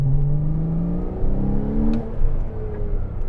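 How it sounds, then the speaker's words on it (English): A Porsche Cayman S 987.2 engine with the switchable sports exhaust open, a loud, close raspy drone that rises steadily in pitch as it revs under acceleration, heard from inside the car without talk. "And then with the switchable sports exhaust open, it makes such a lovely rasp."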